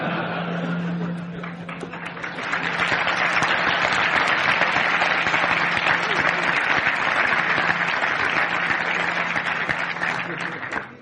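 Sustained applause from a conference audience, a dense wash of clapping that swells after a couple of seconds and holds steady before tapering, with a faint voice under it at the start.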